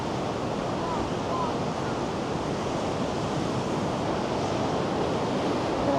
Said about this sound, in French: La plage est très très belle.